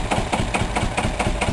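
A 1968 Nuffield 425 tractor, the second version of the BMC Mini tractor, running nearby with a steady rapid knocking beat and loud, even engine chug.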